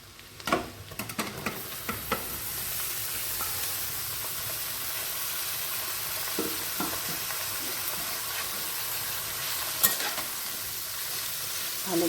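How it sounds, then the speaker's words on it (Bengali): Ridge gourd stir-frying with onion and garlic in a pan, a steady close sizzle with scraping stirs and a few clanks near the start, no talk. "পেঁয়াজ রসুনটা অল্প ফ্রাই হয়ে গেছে, এবার চিচিঙ্গাগুলো দিয়ে দেব।"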